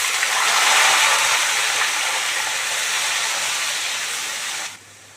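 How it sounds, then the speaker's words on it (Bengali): Onion paste hitting hot oil gives a loud, steady broadband sizzle close by, fading slightly before cutting off abruptly near the end, with no talking. "এইবার পেঁয়াজটা দিয়ে দেবো তেলের মধ্যে।"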